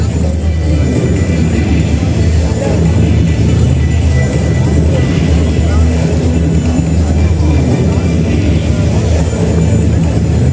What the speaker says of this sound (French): on a des voitures de course qui passent devant nous